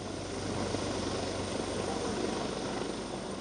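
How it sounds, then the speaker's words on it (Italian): Helicopter circling low over a lake during a search, its rotor and engine a loud, steady broadband roar with a continuous throbbing beat, close overhead and alone without voices. "Lo fanno dall'alto con l'elicottero"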